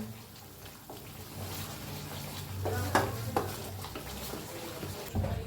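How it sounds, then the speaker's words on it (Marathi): Masala roasting in a pan as it is stirred, giving a close, steady sizzle with spoon scrapes and a few sharper clinks, heard alone without talk. "हलवत भाजून घेऊया मसाला"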